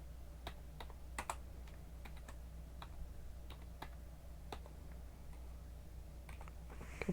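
Keys clatter on a computer keyboard as text is typed, with quick irregular keystrokes that sound faint and close over a steady low hum.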